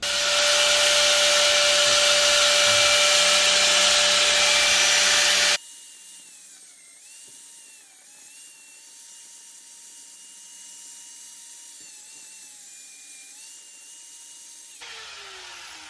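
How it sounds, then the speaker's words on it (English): An angle grinder cuts the ends off a fender bracket on a 2022 Suzuki Hayabusa, a loud steady high whine for several seconds, then drops to a quieter spinning hum with wavering pitch as the disc winds down. "I'm gonna take my grinder and I'm gonna cut off the ends of this"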